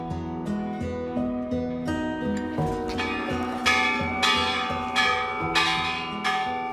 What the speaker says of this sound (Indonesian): Suara lonceng yang menggema menjadi doa dan harapan jutaan orang dari berbagai penjuru dunia untuk bisa menciptakan perdamaian.